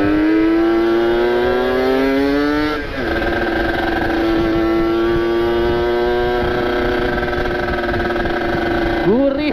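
A Kawasaki Ninja two-stroke motorcycle exhaust drones close by, its raspy engine note rising and dipping as the throttle is blipped, heard steadily throughout.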